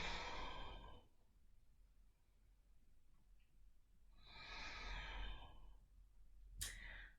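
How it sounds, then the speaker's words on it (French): Slow, deep breathing during a Vinyasa yoga practice: a long audible exhale, a quiet pause, then another full breath, followed by a brief sharp sound. "Respirez tout le monde."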